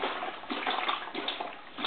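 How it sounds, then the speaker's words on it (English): Warm tap water pouring into a bucket while making homemade laundry detergent, a steady rushing, splashing flow with slight gurgling, close and continuous, no speech over it. "you just start adding your other 3 gallons of water"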